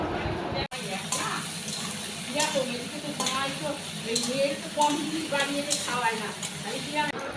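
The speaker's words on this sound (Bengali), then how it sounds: "সাদা জিরে ফোড়ন দিলাম শুকনো লঙ্কা দিলাম তেজপাতা দিলাম এলাচ দিলাম" Cumin seeds, dried chilli, bay leaf and cardamom sizzling in hot oil, a continuous crackling fry with stirring clatter, fairly close, while a voice talks over it.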